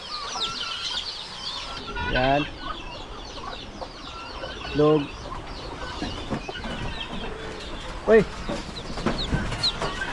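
Backyard chickens clucking outdoors, repeated short clucks and calls near and mid-distance, with someone speaking briefly between them.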